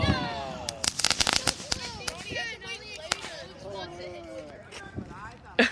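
A Fourth of July firecracker thrown into the air and bursting, with sharp cracks and a quick run of pops over excited shouting and chatter from people nearby.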